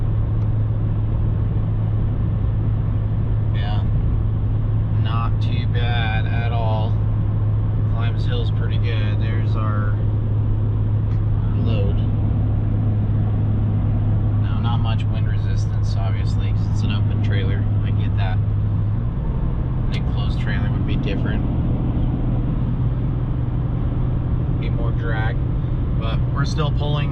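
A Chevrolet Silverado 1500 pickup with the 3.0 Duramax LM2 diesel tows roughly 6,000 pounds up a grade and accelerates to pass. Its engine gives a steady, loud low drone throughout, with a voice talking over it.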